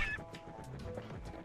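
Birds squawk and honk in short bursts as they are speared in the video game Bastion, with faint game sounds underneath and no talking.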